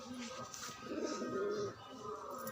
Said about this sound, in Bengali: ওই দেখো চালের উপর কটা পায়রা বসে আছে